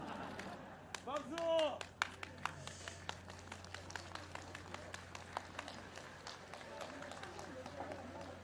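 Outdoor crowd at a homecoming speech claps and applauds, a sustained patter of many hands with scattered sharper claps and a brief cheer rising early on, continuing steadily at moderate level beneath a low steady hum.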